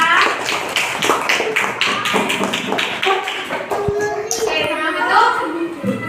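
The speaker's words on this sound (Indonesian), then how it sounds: "tepuk tangan buat Mas Nata" Classroom of students clapping for a classmate in a rapid, rhythmic patter of hand claps close by, fading out as children's voices and talk take over.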